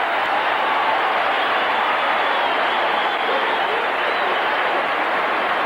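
A stadium crowd at a 1984 American football game between the Philadelphia Eagles and Buffalo Bills roars in a steady, broad wash of cheering that holds at an even level throughout, with no distinct voices standing out.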